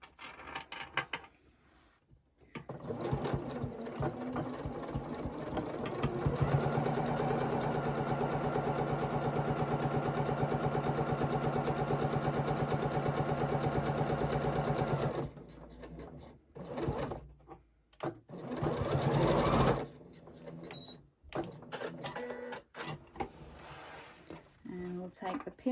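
Home sewing machine stitching a section of a microwave rice heat pack, with a steady mechanical whir running for about nine seconds, then short start-stop bursts of reverse stitching; a person talks over it at times.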